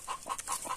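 A hen clucks softly several times in quick succession, close by and fairly quiet.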